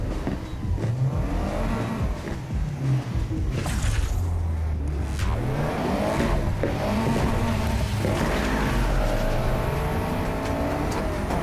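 A race car with new tyres accelerates hard in Need for Speed Heat, its engine rising and shifting through gears in loud continuous revs, with tire noise and other cars passing, and no voices.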